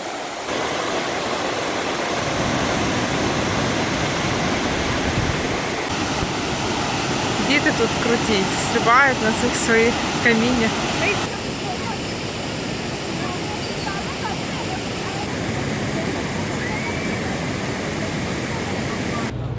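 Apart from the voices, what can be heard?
waterfall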